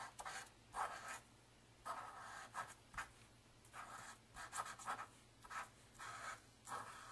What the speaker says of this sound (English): So I'm just kind of tracing it with my Zig 2A glue pen.